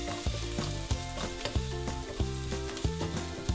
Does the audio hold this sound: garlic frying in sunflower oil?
yes